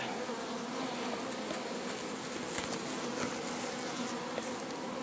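Honeybees swarming thickly over the tops of hive frames, a dense, steady buzzing drone held close and even throughout.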